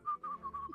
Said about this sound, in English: Fucking whistling.